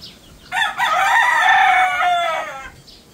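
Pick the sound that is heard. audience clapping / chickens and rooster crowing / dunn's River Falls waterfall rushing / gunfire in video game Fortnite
chickens and rooster crowing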